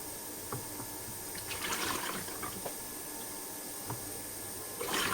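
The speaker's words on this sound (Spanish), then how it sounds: "verter el agua en una cubeta" Water is poured from a container into a tub holding peat or coconut fibre, making a soft, uneven splashing and trickling at close range, with a few brief clatters and a louder gush at the end.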